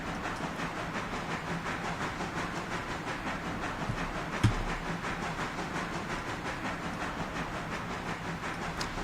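Steam locomotive rolling along in the Railroader game after the reverser is lowered, a steady rhythmic chuffing and rail clatter with a single sharp clank midway, continuous and moderately close, no voices.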